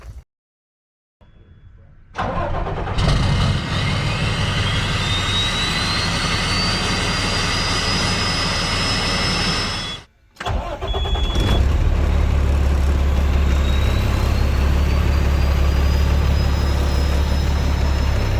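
A flatbed straight truck's diesel engine, fitted with new exhaust pipes, starts up and settles into a loud, steady idle, then cuts briefly before restarting and running on with a deep, continuous rumble.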